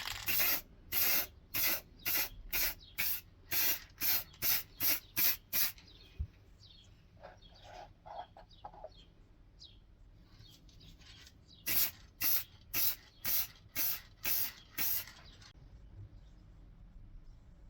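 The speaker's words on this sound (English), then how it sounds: "So we're literally going to spray this with a 151 clear lacquer" Clear 151 lacquer hissing from a spray can in a series of short, loud, evenly spaced bursts, then a quieter stretch with faint handling noise before another run of rapid bursts, applied to a small scroll-saw-cut kneeling angel.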